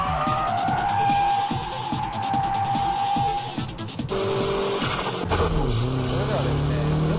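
A car drifts in GTA San Andreas with loud, sustained tire squeal and a revving engine. The engine note shifts mid-run and another squeal rises near the end. A voice talks over part of it.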